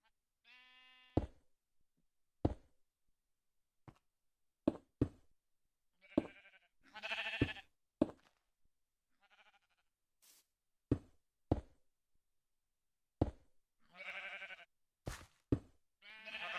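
Repeated sheep bleats in a Minecraft-style survival video game, short separate calls spaced across the stretch amid scattered clicks and knocks of game actions, with no talking.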